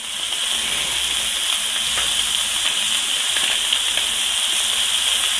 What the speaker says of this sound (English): I think that one didn't sear as well as the other, so I'll let that one go a little longer